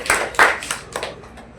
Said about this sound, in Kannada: ಹೊಡೀರಿ ಚಪ್ಪಾಳೆ ಅಂತ